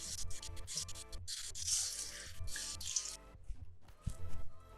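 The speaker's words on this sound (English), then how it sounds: "Say maybe 4 sticks of celery should do it. We're gonna go ahead and rinse these off." Celery sticks rinsed under a running kitchen tap, a steady close wash of water with rubbing and dripping as the stalks are handled, no talking.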